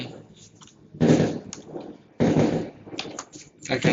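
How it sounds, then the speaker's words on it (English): Firecrackers set off outdoors for Chinese New Year, heard as a few loud broadband bursts in the background, with quieter crackling between them. "if you hear the noise and the firecrackers in the background."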